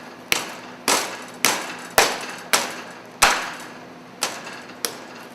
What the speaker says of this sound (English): I have a small saute pan, and I'm lightly going to just pound it